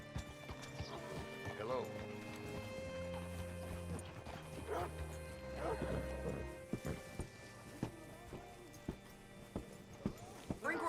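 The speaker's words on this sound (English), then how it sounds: "Hitch your horse up here." Horse hooves clip-clop steadily in a Western video game, with a horse whinny and clattering mechanical sounds. Voices and music play over the hoofbeats, which grow sharper and more distinct toward the end.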